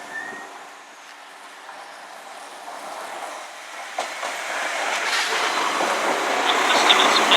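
Class 172 diesel multiple unit 172335 passing through a station, a train rumble building steadily from faint to loud over several seconds with rail clatter, no talk.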